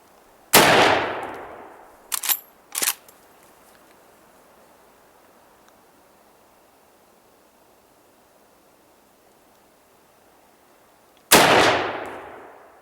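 Three shots from an old Marlin 30-30 lever-action rifle at an outdoor range, each a loud, sharp crack with a decaying tail. Two come close together early on, and a third follows after a long quiet stretch.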